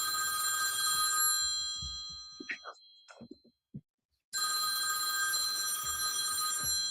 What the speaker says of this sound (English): I hear a phone ringing somewhere.